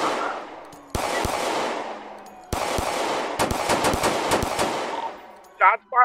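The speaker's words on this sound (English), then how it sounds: "Shots fired, we got an active shootout" Rapid bursts of automatic gunfire in a shootout in the video game Roblox, loud and close, with sharp repeated shots and decaying echoes, ending with a short burst of voice.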